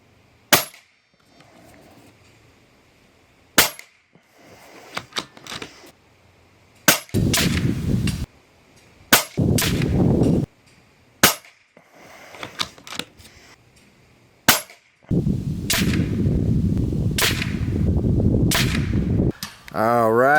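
Sharp shots from an Airgun Technology URAGAN bullpup PCP air rifle, several loud single cracks spaced a few seconds apart outdoors, some followed by bursts of rustling or wind-like noise, with no talking.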